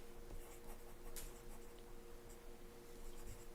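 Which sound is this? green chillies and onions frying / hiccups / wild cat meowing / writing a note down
writing a note down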